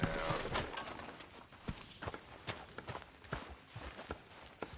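Horse hooves clip-clop at a walk in the open world of Red Dead Redemption 2, scattered soft thuds at moderate distance over a steady background hiss, with no talking.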